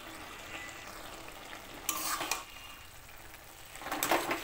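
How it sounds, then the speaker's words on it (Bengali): Metal lid lifted from a pot of cooking lau shak (bottle gourd greens), a couple of clanking knocks followed by soft sizzling and stirring sounds at close range. "ঢাকনাটা এবার উঠিয়ে নিচ্ছি।"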